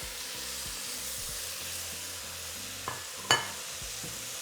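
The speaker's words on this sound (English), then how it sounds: "we're just going to return all of our meat back to the pot" Seared meat for carne adobada tipped back into a hot pot: a steady, loud sizzle and frying hiss, with a couple of sharp clinks of a utensil against the pot near the end.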